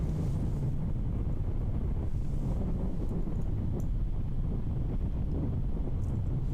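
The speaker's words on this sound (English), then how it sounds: "the wind is just absolutely ripping" Strong wind buffets the microphone on an outdoor disc golf course, a steady low roaring rumble with gusty surges that runs unbroken throughout, loud and close.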